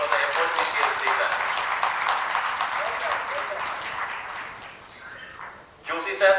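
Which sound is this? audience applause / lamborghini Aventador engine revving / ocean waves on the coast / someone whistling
audience applause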